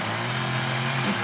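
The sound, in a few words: lawn mower running while mowing a lawn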